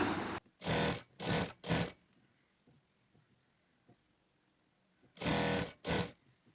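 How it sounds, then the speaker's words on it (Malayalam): A sewing machine stitches the front piece of an abaya in short loud bursts, three quick runs, a quiet pause, then two more, with a faint high whine lingering between them. "ഫ്രണ്ട് പീസ് രണ്ട് സൈഡും ഇതുപോലെ കറക്റ്റായിട്ട് നമുക്കത് സ്റ്റിച്ച് ചെയ്തെടുക്കാം"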